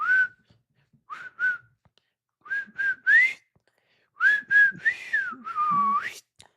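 Someone whistles a short tune alone, in several bright phrases with pauses between them, the last notes sliding and wavering.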